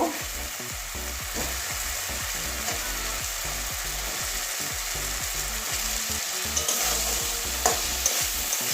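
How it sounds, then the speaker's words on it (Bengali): Fish roe is sautéed in a pan for a Bengali kalia, a dense continuous sizzle with a steady rhythm of spatula scrapes and stirring strokes, close and fairly loud. "আগে ডিমটা কষিয়ে নেবো একটু"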